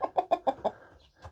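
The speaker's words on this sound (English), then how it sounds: "And the chickens are all doing absolutely fine." Garden chickens cluck in a quick run of five close, rhythmic clucks, then a softer cluck after a brief pause, heard alone with no talking.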